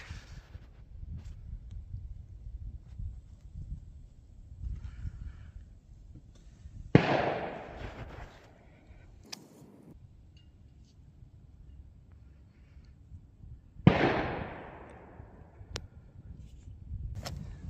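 Two loud, sharp .22 WMR rifle shots from a Rossi RS-22M fired into a ballistic gel block, spaced about seven seconds apart, each a sudden crack with a short decaying tail over a quiet outdoor background.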